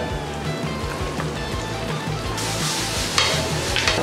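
Garlic and onion sauté in a hot pan for bopis, a steady close sizzle that swells into a louder, brighter hiss partway through as the onion goes in, with faint stirring scrapes underneath.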